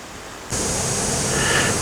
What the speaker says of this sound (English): You can see the falls there.